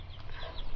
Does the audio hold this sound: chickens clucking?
yes